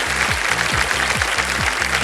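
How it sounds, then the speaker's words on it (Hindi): A studio audience at a quiz show bursts into sustained applause, a dense wash of clapping over a repeating low electronic musical sting, loud and continuous throughout. "ताली बज गई।"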